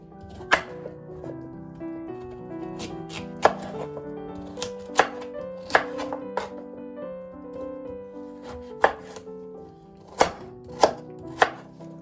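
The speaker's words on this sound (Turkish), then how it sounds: "Şimdi soğanımızı aynı şekilde onu da 4-5 parçaya böleceğim" Knife chopping onion and carrot into chunks on a board, a series of sharp irregular chops over a steady low background hum, close and fairly loud.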